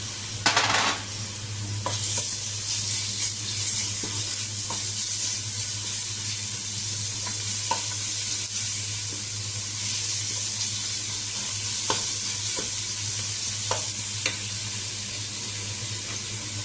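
Onion and garlic fry in a pan until golden, a loud close steady sizzle with a constant hiss and occasional small pops and crackles throughout.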